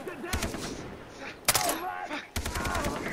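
Gunfire from the video game Far Cry 3, sounding as three sharp bursts of shots separated by short pauses, loud and close, over a steady game background.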